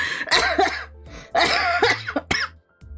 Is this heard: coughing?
yes